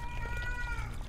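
A single short cat meow in the video game Erie, tonal and slightly drawn out, over a low background hum.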